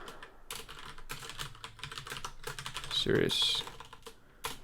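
Keys clatter steadily as code is typed on a computer keyboard, a close run of quick clicks with a brief louder burst near the end, while someone speaks over the typing.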